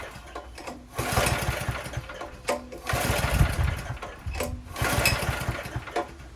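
A Honda generator with its choke on is cranked over on residual petrol, making three rough, close bursts of mechanical churning and sputtering, separated by short pauses, without catching into a steady run.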